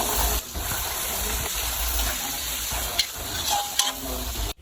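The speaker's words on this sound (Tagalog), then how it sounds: "Diyan nga ay nagpainit na tayo ng mantika at saka star margarine" Star margarine and cooking oil heat in a pan for kaldereta, giving a steady close sizzling hiss with a few small pops and clicks, ending abruptly.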